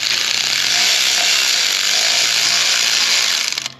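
A ratchet with a 13 mm socket works a bolt on a Jeep Grand Cherokee 4.0 that has an overheating problem, making a dense, loud, continuous rasping close by for a few seconds before it cuts off.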